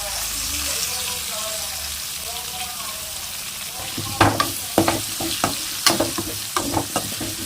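Raw mango pieces sizzle in hot oil for a chicken curry with drumsticks and potatoes, a steady frying hiss joined by repeated scraping stir strokes in the second half, close and fairly loud.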